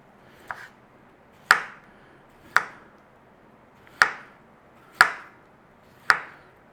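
Knife slicing through cooked beetroot on a board, five crisp chops spaced about a second apart after one lighter tap, close and clear with no talk.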